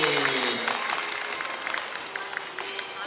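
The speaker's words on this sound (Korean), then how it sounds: "뜨거운 박수 부탁드립니다" Audience applause for council members arriving at a Jangheung County event promoting fathers' involvement in childcare, a dense sustained burst of many hands clapping with some crowd murmur mixed in.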